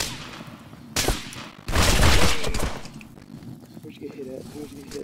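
Heavy weapon fire in the VR shooter Contractors, a loud sustained burst of blasts after a brief sharp shot, with a player's voice talking under the battle noise.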